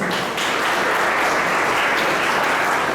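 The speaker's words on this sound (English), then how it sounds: "Round of applause, please." Audience at an urban redevelopment conference breaks into loud, dense, sustained applause that stays even from start to finish with no talking over it.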